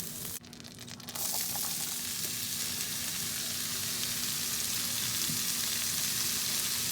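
Onions and peppers sizzle in a hot pan for a cheesesteak filling, a close, steady frying hiss that swells after a brief quieter start and holds without talk.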